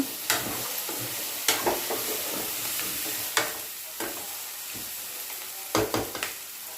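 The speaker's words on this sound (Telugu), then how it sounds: "బెండకాయ ముక్కలు వేసుకుందాం బెండకాయ ముక్కలన్నీ కలుపుకోవాలి" Okra pieces stirred in a hot pan, a steady sizzle punctuated by half a dozen sharp spatula clacks against the metal, near and without talk.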